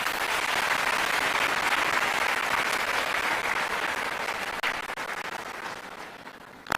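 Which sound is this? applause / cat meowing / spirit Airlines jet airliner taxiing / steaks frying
applause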